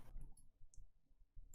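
A computer keyboard clicking in quick, scattered bursts of taps, fairly soft over a low background rumble, with no voices.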